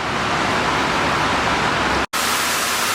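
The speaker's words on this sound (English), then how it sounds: "it sounds like there's a waterfall or something up ahead" Water gushes steadily from a large pipe inside a flooded, abandoned subway tunnel, a loud, dense roar like a waterfall that fills the space, broken only by one split-second dropout.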